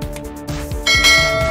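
A bell sound effect chimes with struck, ringing tones that sustain and layer, growing louder partway through, alone and with no speech.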